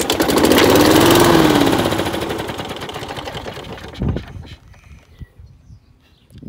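A mildly burnt Victa lawn mower with a Briggs and Stratton engine sputters loudly for about two seconds, then dies down into fading rattles and a few faint knocks.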